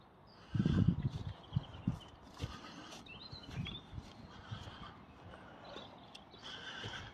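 Horses at a large stud farm give off a distant whinny and soft snorts, with a few faint hoof sounds and thuds against light outdoor background noise and occasional birdsong.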